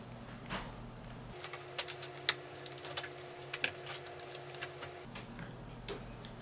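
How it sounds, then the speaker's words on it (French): Small screws are worked loose from the keyboard area of an ASUS G55VW laptop: faint, quiet clicks and ticks come at irregular intervals over a low steady hum that cuts in and out. "on va enlever les 6 vis qui retiennent le clavier dans le cache de la batterie"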